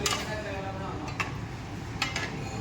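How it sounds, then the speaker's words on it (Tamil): A chef stirs Kanyakumari-style avial in a brass uruli pot, giving a few distinct metallic scrapes and clinks over a soft, continuous background of bubbling and kitchen noise. "நம்ம செஃப் கிண்டிக்கிட்டு இருக்காரு"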